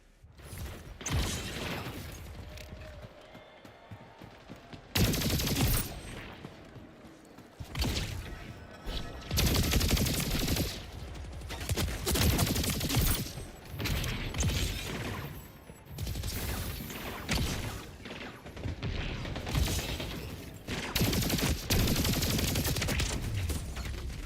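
Shotgun fire in the video game Splitgate 2: loud, broad blasts and bursts of gunfire in clustered volleys with short gaps, mixed with mechanical clatter, close and dense throughout.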